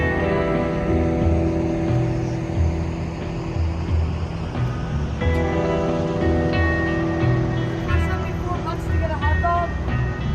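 Heavy mechanical churning and rushing water fill the inside of an automatic car wash at a Love's stop in Clara, Texas, a steady loud rumble with shifting whooshes, while people talk over it.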